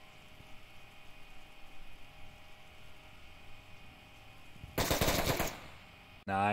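Gunfire in the video game Onward breaks out as a loud, rapid burst lasting about a second. Faint ambient rumble comes before it, and a sharp sound follows at the end.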